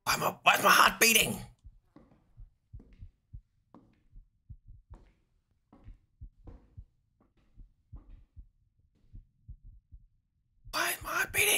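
A slow, muffled heartbeat throbs in a dark horror video game, soft paired thumps repeating steadily in the quiet between bursts of a person's loud talk at the start and end.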